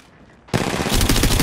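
Gunfire in Apex Legends Mobile erupts abruptly after a brief quiet moment into a loud, continuous rapid burst of automatic shots.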